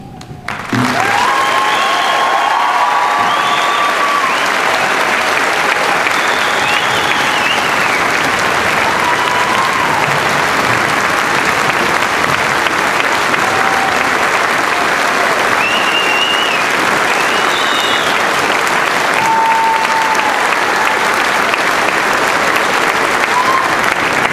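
Steady, loud applause fills a college commencement ceremony as the audience honours graduating veterans, the clapping holding strong for over twenty seconds.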